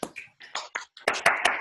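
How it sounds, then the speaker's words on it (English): Participants on a video call applaud, with a few scattered claps at first and then a denser burst of clapping, quick and close, as several unmuted microphones pick up hands at once. "a round of applause for Danny's wonderful talk"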